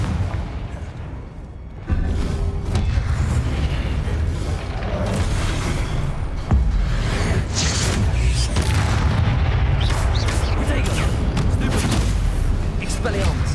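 Confringo spell blasts in Hogwarts Legacy battle, a sudden booming burst around two seconds and another near six and a half, over a dense roar of combat noise with a voice speaking.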